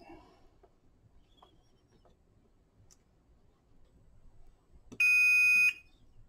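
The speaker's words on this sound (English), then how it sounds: "if I actually do my continuity check" Multimeter continuity beep while probing a battery BMS board from an EGO 4.0Ah pack: one steady electronic tone lasting under a second, loud against a near-silent background with faint ticking before it.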